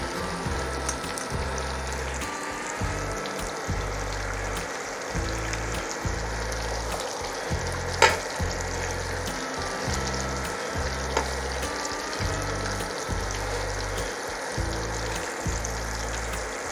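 Cheddar cheese sticks fry and brown in hot oil, giving a constant bubbling sizzle with a low, steady background rumble.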